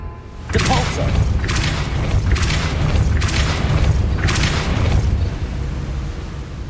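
Depulso spell cast in Hogwarts Legacy, a sequence of four or five forceful whooshing blasts in steady succession over a rumbling background, loud and near.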